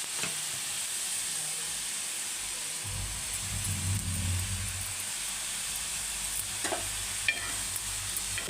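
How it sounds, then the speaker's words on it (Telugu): Egg and onion omelette frying on a clay pan, a steady close sizzle throughout, swelling louder for a couple of seconds partway through, with no talking. "కడుక్కొని మనమైతే పెంక మీద వేయించుకుందాం."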